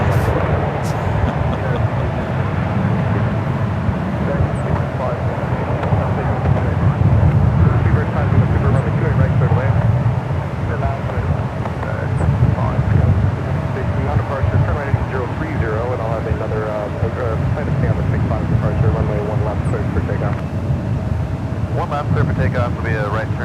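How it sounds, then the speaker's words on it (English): A United Boeing 777-300ER takes off at San Francisco airport, a loud, sustained low engine roar mixed with wind buffeting on the microphone, with a voice talking over it. "Another United 777-300ER also heading out to the 28s."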